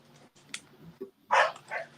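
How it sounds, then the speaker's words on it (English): A dog barks from the yard next door, a few scattered yips and woofs followed by a louder, fuller bark and a short trailing one, moderately distant with no talk over it. "Is that dog out there?"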